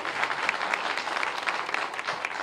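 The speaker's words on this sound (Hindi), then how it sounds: "जोरदार तालियां।" Loud applause from a crowd at a public event with a chief minister in Aligarh, steady dense clapping throughout with no speech.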